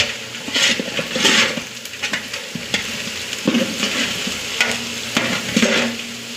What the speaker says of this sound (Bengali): পেঁয়াজগুলো আস্তে আস্তে এই যে লাল হইতেছে।